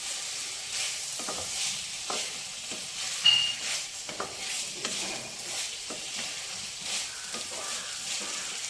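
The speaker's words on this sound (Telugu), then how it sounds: "దుంపలు అంటుకుపోకుండా చక్కగా వేగుతాయి అన్నమాట." Thinly sliced potatoes fry in a salted pan, a steady soft sizzle under repeated scraping and stirring strokes from a spatula.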